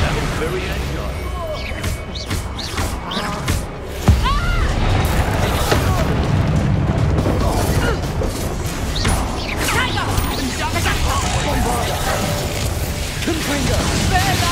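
Spell explosions from Hogwarts Legacy combat, including the Expulso blast, with booms, crashes and a sudden loud hit near the middle amid constant battle noise and shouted voices.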